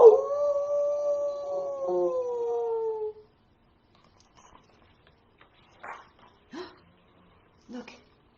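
A wolf gives one long, smooth, slightly falling howl lasting about three seconds. Near-silence follows, with a few faint short sounds.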